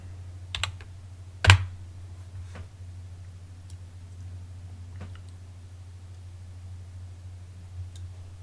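A handful of sparse, clicky keystrokes on a computer keyboard, with one sharper tap standing out, set over a steady low electrical hum with no talking.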